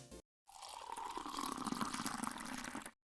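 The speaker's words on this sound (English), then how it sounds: "and some liquid being poured." Liquid is poured in a short burst as part of a robot RPG game sound effect, a steady splashing flow lasting about two and a half seconds after a brief clipped sound and a moment of silence.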